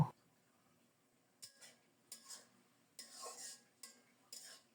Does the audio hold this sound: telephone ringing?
no